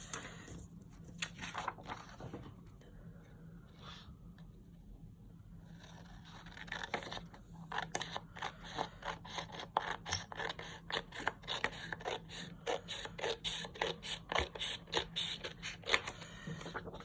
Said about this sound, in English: I'm cutting it pretty snug in the hope that I'll only have to trim once.